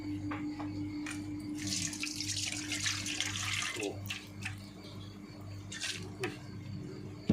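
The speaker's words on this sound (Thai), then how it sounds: "เดี๋ยวใส่น้ำล้างครกหน่อยนะครับผม" Water is poured into a mortar to wash it out, a continuous close splashing and trickling with a faint steady hum behind it.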